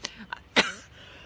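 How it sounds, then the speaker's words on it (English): A woman coughs close by, a few short rough bursts with one stronger cough in the middle, quiet surroundings between them. "She says as she coughs."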